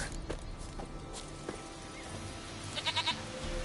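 A goat in The Witcher 3 lets out a short run of quick, wavering bleats near the end, set over a continuous outdoor game ambience with soft footsteps and rustling.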